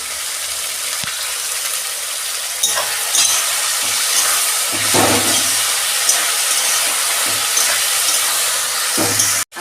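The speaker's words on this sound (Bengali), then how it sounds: "সবজিগুলো একটু ভেজে নেব" Onions and green chillies fry in a pan with a steady, loud sizzle and crackle throughout, broken by occasional scraping stirs, with no talking.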